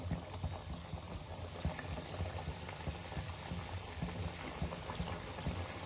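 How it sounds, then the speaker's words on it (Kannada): Chakkuli dough frying in hot oil, a dense, steady bubbling sizzle with fine crackling pops, continuous and close, no voices. "ಬಿಸಿಯಾಗಿರೋ ಎಣ್ಣೆಯಲ್ಲಿ ಒಂದೊಂದೇ ಚಕ್ಲಿನ ಬಿಡಬೇಕು"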